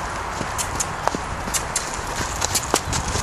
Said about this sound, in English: Rocking the horse canter on a big old Friesian.